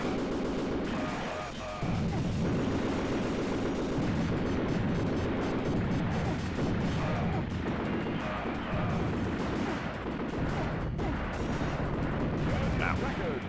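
A steady barrage of gunfire and explosions in the Xbox game Azurik: Rise of Perathia, loud and continuous with overlapping blasts and no clear pauses.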